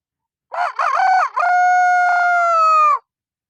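A voice imitates a rooster crowing, a loud, close cock-a-doodle-doo that breaks into a long, sustained final note, heard alone.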